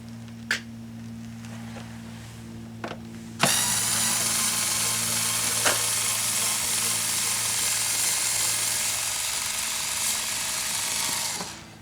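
A ratchet turns a long screw on the cowl of a 2006 Chevy HHR while the cowl water deflector is being replaced, starting with a few isolated clicks, then a continuous, fairly loud mechanical run lasting about eight seconds.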